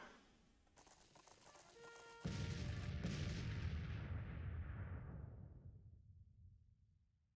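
Civil War cannon fire in a strategy game, a sudden heavy boom over faint crackling volleys that rolls out into a long fading rumble, with no voices.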